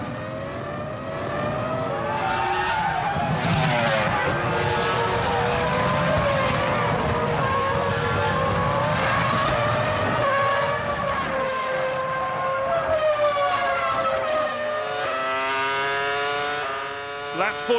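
Onboard Formula One car of Juan Pablo Montoya at the 2005 Spanish Grand Prix in Barcelona, engine screaming loud and close with rising and falling pitch through gear changes, commentary voices running over it.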